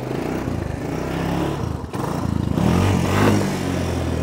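A trail motorcycle's engine revs hard and continuously as the rider wheelies down an obstacle, loud and close, with a short dip in throttle midway and clattering over the rough ground.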